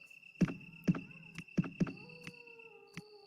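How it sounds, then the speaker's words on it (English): Footsteps in the Resident Evil video game, set in a mansion: about eight evenly spaced thuds, sharp and fairly close, over sustained eerie background tones. "I hear footsteps."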